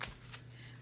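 Tarot cards being shuffled by hand, two quick soft riffling bursts, close and faint over low hum.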